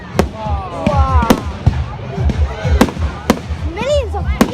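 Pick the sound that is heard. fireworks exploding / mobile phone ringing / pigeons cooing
fireworks exploding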